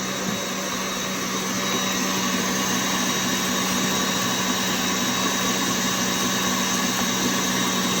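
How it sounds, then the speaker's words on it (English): An electric mixer whirs steadily as it beats eggs, sugar and flour for a chocolate cake batter, a constant loud motor drone with a faint high whine and no pauses. "I'm going to let it mix for another 4 minutes"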